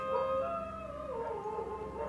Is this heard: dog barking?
yes